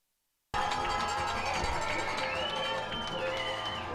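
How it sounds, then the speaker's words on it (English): Crowd noise at a Barrie Baycats baseball game fills the stands, a steady loud roar of cheering and chatter that starts abruptly and holds throughout, with a few whistles and shouts rising above it. "you can hear the crowd cheering for our in-game host Kendra Doyle and Dylan Quinn"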